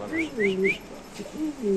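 A Spanish pigeon coos close by in a run of low, rolling calls with brief gaps between them, and a person's voice can be heard faintly alongside.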